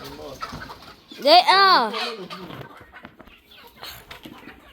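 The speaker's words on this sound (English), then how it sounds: "And more chickens are escaping." Boschveld chickens on a farm escaping, with one loud burst of squawking and clucking in the middle and lighter fowl noises and rustling around it, while a person speaks briefly.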